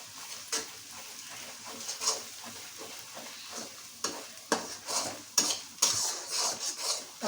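Ginger paste frying in a pan for a meat dish, with a spatula scraping and clinking against the pan in irregular strokes over a soft, steady sizzle, close up and with no talking.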